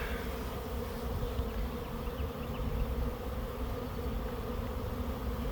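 A honey bee swarm hums steadily inside empty hive equipment left in a bee yard, a dense, continuous close-up drone of many wings with no pauses and no voices.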